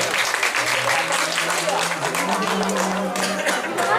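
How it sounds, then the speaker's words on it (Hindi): A crowd at an evening devotional gathering with Hanuman Chalisa singing in Pathankot claps continuously in a thick, steady wash, with voices mixed in throughout. "तालियों की आवाज कम हो गई है क्या बात?"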